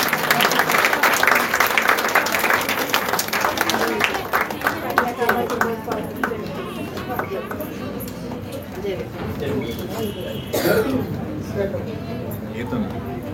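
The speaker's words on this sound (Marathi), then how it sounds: "टाळ्या वाजल्या पाहिजे जरा" An audience at a celebration honoring Mata Ramabai Ambedkar's birth anniversary applauds loudly and steadily while people call out and talk over the clapping.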